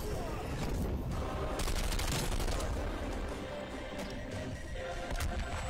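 Pistol gunfire in a video game, dense rapid shots and impacts packed together loudly, with game noise continuing throughout.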